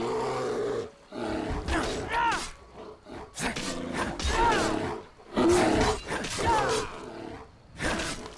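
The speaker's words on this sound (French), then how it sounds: "Let's go, il y a un ours ici." A bear in Skyrim roaring and growling repeatedly, loud close bursts with rising and falling snarls and brief gaps between them.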